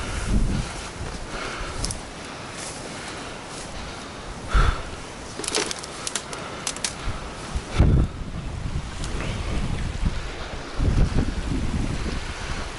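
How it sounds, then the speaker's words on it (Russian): Strong wind buffets the microphone by open water on a northern fishing trip near the Pechora, a constant roaring rush with louder gusts and thumps, over the wash of waves. "Ветрище здоровое."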